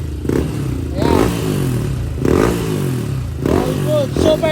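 A freshly rebuilt motorcycle engine runs at a steady idle with periodic revs rising and falling, fairly close, while someone talks over it.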